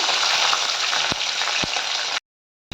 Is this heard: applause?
no